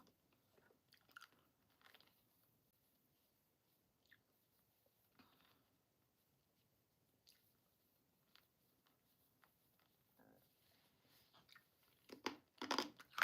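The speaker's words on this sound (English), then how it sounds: "Right, now I'm chewing my cough drop." Quiet, close-up crunching and clicking of a hard cough drop being chewed, sporadic bites spread out, growing louder near the end.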